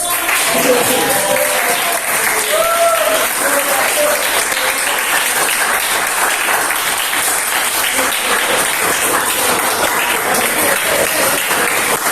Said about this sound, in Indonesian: Ayo kasih tepuk tangan lagi untuk